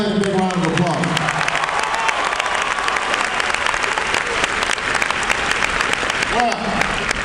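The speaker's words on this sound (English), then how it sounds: "Give her a big round of applause" A large crowd at a campaign rally in Missoula applauds and cheers in a sustained, loud wash of clapping, with shouts and whoops rising over it throughout.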